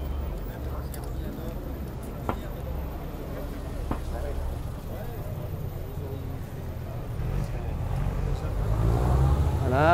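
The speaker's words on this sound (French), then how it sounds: "Voilà, arrivent d'autres voitures" Classic cars arriving at Versailles, engines rumbling by and one revving louder toward the end, under someone talking.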